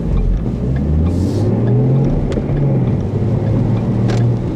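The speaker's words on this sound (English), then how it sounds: "The V6 surprisingly makes a really nice sound." A 2014 Ford Mustang with the 3.7-litre V6 and six-speed manual gives a loud, steady, low exhaust drone close by, with some wind buffeting over it.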